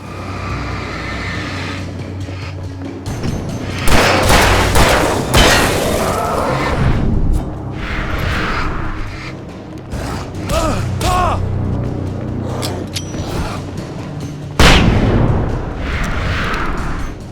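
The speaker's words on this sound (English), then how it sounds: "It's time for a flashbang" A flashbang grenade goes off in the survival horror game Alan Wake Remastered, loud broadband blasts with booming low thuds around four and fifteen seconds amid continuous game noise and rumble.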